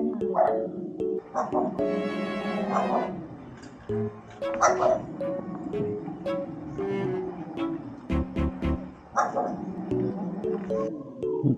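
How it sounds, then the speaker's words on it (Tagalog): An angry dog barks in scattered sharp bursts, interspersed with people talking nearby throughout. "Hello, galit yung aso"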